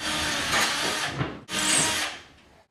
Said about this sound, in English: We can drill a little pilot hole in where we're going to put our screws